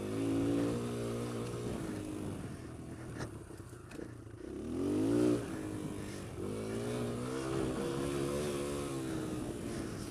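A Kawasaki KLX140L dirt bike rides at a distance, its small engine droning and rising in revs with a few pitch sweeps as it accelerates, faint and unaccompanied by speech.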